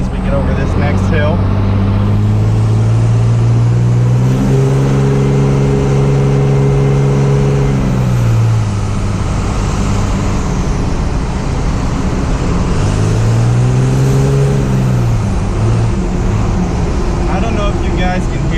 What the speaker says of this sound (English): that turbo is pretty loud relative to the sound of the engine.